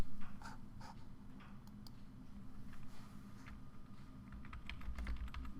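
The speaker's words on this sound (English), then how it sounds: "we'll go ahead and type in that the climate" Typing on a computer keyboard at a nurse-station patient system, a quiet, irregular run of soft key clicks over a low steady hum, close and without talk.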